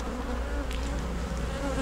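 A thick, unbroken hum of honeybees fills the air near an open hive being inspected, many drones among them, close and steady with no voices.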